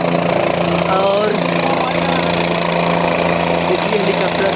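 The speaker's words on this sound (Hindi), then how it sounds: "यहाँ पर देखिए हेलीकॉप्टर सामने आ रहा है" A helicopter approaches the helipad at Kedarnath in the mountains, a steady, loud rotor and engine drone throughout while someone talks over it.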